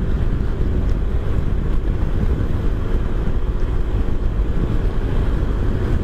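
SYM motorcycle cruising steadily at 100 km/h on a high hill road, heard as a constant loud rumble of wind buffeting and engine drone with no pauses and no talk.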